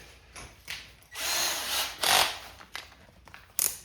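A power drill fitted with a number 3 screwdriver bit runs in several short bursts on a CMAX battery pack, with rising whines, pauses and sharp clicks at close range.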